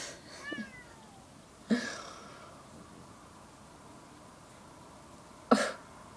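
A cat meows a few times, short separate calls spaced out over several seconds against a quiet background.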